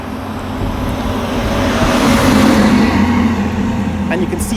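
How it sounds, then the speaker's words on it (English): Vehicles, including trucks, speed along Heroes Highway, a smooth new road surface, in a steady loud rush of traffic noise that swells and fades, with someone talking over it. "If you watch on the vehicles traveling on Heroes Highway, coming at some speed"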